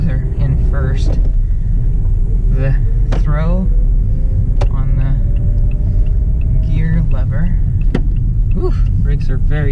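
Steady low rumble of a manual stick-shift car driving in first gear, continuous road and engine noise throughout with a brief whine, while a driver speaks over it.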